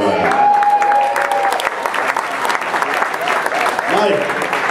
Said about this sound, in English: You can keep the applause coming.